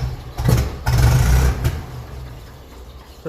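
A 1954 Ferguson 20 TEF diesel tractor engine is revved in two short bursts, a low, rough rumble that swells and then drops back to a steady idle. It is close and there is no talk.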